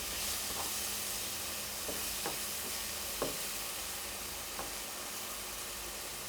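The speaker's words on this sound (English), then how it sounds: "and then you crack the eggs into it, okay? And stir it around a bit, okay?" Eggs sizzling in a pan for fried rice, a steady hiss of frying with a few soft scraping strokes as they are stirred, close and fairly quiet.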